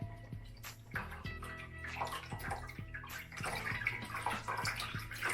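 Seaweed vegetable stock is poured and strained, the liquid splashing and trickling steadily nearby with gurgles and a few clinks, under a faint low hum.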